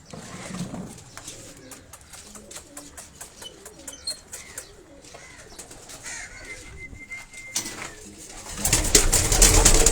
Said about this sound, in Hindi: दूसरे कबूतर जो है दोस्तों को मैंने बाहर निकलवाया है